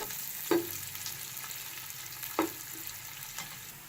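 About 400 grams of sliced onions fry in a pan toward golden brown: a steady soft sizzle fills the clip, with a few sharp clicks of stirring against the pan and no talk.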